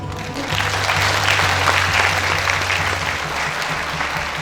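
Steady, fairly loud audience clapping fills a school felicitation prize ceremony hall, an even wash of hands applauding that tapers slightly toward the end.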